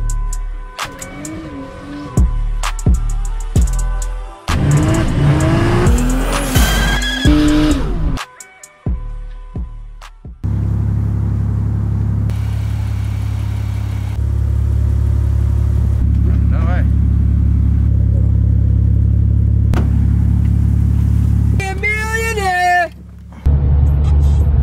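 Race car engines at a night roll racing event on Queensland Raceway, heard from inside a car: idling and revving, then a loud sustained engine roar as it accelerates down the track, close and dominant.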